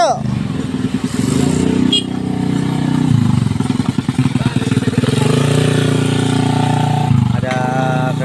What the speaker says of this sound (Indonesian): Ada kendaraan yang lewat, jadi eskavator dihentikan sementara dulu.